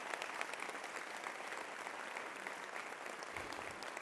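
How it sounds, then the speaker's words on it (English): A broad, even round of applause fills a hall at a schools leadership breakfast, heard at a fairly low level and with no talking. "So please join me in giving them a round of applause."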